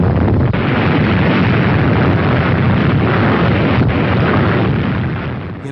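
An atomic bomb explodes over Nagasaki, a loud continuous roaring rumble that holds steady for about five seconds before it begins to fade.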